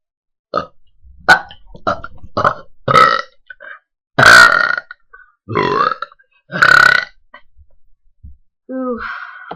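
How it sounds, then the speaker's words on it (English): A person burps repeatedly, about seven loud, close belches in a quick irregular series, with short breaths between them. "Here's the burp video."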